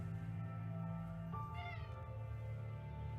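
A male pet cat lets out a short rising meow and then a longer wavering one, close and fairly quiet, over a constant low droning hum.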